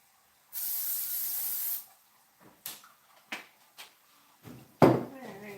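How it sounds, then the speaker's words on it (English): Cooking spray hisses from a can onto a pan in one steady burst of about a second, close and clear, followed by soft kitchen clatter and a brief thump. "Do you need to add more spray?"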